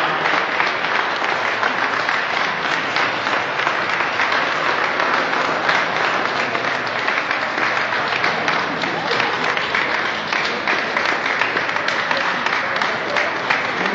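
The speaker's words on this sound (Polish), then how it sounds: "Owacyjnymi oklaskami" A hall audience gives a sustained ovation, dense, steady clapping that fills the whole stretch without a break, loud and even.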